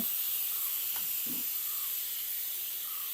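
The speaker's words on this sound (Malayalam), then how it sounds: "ഇതിൽ വെച്ചു കേട്ടോ കുക്കറിൽ വെച്ചേ" A kitchen pressure cooker releases steam in a continuous loud, even hiss that fills the whole stretch, with faint knocks underneath and no talking.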